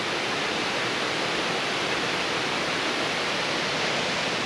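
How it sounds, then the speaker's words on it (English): Cane Creek waterfall pours in a steady, dense roar of falling water, continuous and fairly loud, with no voices over it. "That must be Cane Creek. And there's the waterfall."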